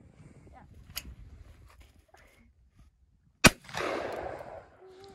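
A single sharp gunshot from a semi-automatic rifle cracks loudly at close range during outdoor target shooting, followed by a brief rushing echo, with quiet background noise and faint movement before it.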